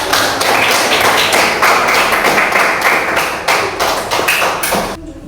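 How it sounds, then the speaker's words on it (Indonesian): Students in a classroom give themselves a round of applause after a lesson, producing loud, dense, sustained hand clapping with rhythmic bursts that stops abruptly at the end. "Tepuk tangan untuk kita."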